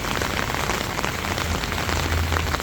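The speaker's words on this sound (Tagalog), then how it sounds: "Sobrang lakas ng ulan guys." Heavy rain in Japan falls in a thick, constant wash of noise close by, unbroken throughout and with no one speaking.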